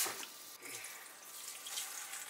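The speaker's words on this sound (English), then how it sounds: "I'm just gonna wash out the meat" Tap water runs steadily into a sink while pork meat is washed under it, a continuous close splashing hiss with small shifts in flow.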